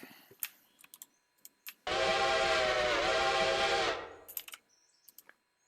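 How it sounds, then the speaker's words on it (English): A Strasbourg 90s steam locomotive whistle in the train game Railroader gives one loud, sustained two-second blast, with faint clicks and taps before and after it. "So, yeah, Strasbourg 90s whistle on the 5."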